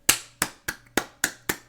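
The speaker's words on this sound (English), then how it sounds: "Round of applause." Six sharp, evenly spaced claps ring out close and clean in a steady rhythm, like a short applause effect with no talking.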